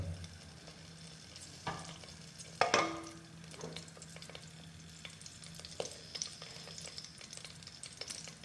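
Cinnamon, cloves and cardamom frying in about three tablespoons of coconut oil for Kerala-style mutton curry, a soft steady sizzle with scraping stir strokes and a sharper clatter midway, quiet and close with no talking.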